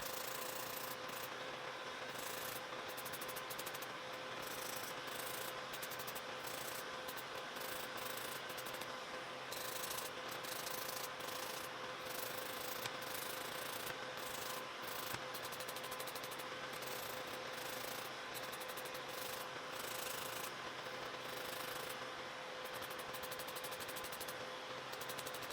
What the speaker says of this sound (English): scrubbing the nail, like just filing it all the way around to make sure everything is even